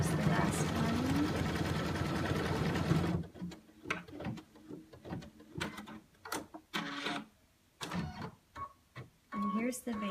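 A sewing machine runs a chenille basting stitch, first as a dense continuous mechanical whir, then in short stop-start bursts of stitching, close up, with people talking quietly alongside.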